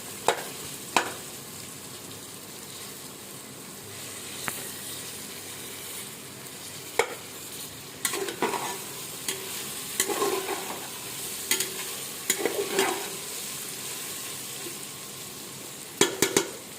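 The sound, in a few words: stirring beetroot with masala in a pan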